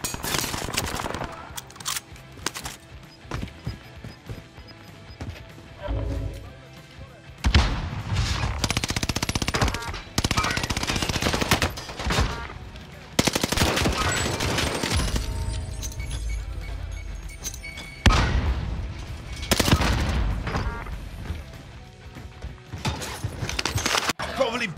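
Gunfire in the Warzone battle royale game, repeated bursts of automatic fire and single shots crackling loudly through a tense firefight, with short breaks between volleys and voices occasionally talking over the action.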